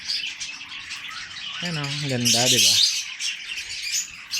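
Birds kept at a home give a sharp, close squawking call in the middle of the clip, surrounded by lighter chirping. A person speaks briefly over them.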